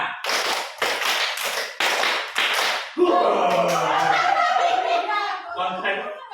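A group of people claps together on command, with several sharp unison claps in a rhythmic pattern followed by a burst of scattered applause and voices, close and loud.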